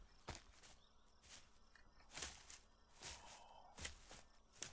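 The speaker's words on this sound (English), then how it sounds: "I hear footsteps that aren't mine." Footsteps in a video game, heard as a series of quiet, spaced thuds and scuffs that recur at an irregular walking pace against a low background hum, with no voices.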